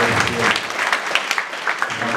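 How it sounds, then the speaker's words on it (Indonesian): A congregation at a church service inside a prison in Sorong applauds, with a steady, moderately loud clatter of many hands and faint voices mixed in. "Tepuk tangan dulu"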